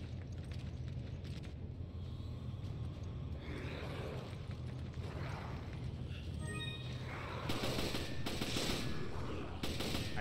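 Rapid gunfire in the third-person shooter Resident Evil 5 on PC, a dense dense rattle of automatic shots running continuously under a steady bed of game noise, with a louder burst of firing near the end.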